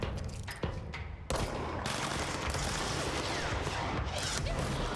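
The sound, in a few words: gunfire while shooting for headshots in video game Control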